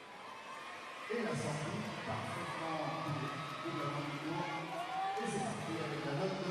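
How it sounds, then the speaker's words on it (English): A crowd at a women's gymnastics World Challenge Cup in Paris erupts into a big cheer with whoops after a floor routine, the roar building suddenly and holding steady, loud and broad, with no talk over it. "a big cheer goes up"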